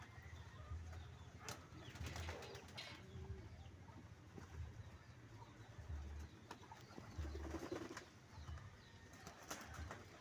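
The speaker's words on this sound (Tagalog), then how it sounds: "Buti pa yung kalapati naliligo." Pigeons bathing in water, with soft repeated low cooing and scattered splashes and wing flutters throughout, near and steady against light background noise.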